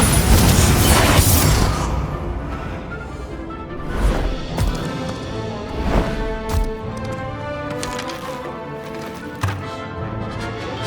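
Bombarda spell explosions in the Hogwarts Legacy video game, a loud crashing blast at the start followed by several more booming impacts and clattering spell effects in a rhythmic, irregular sequence.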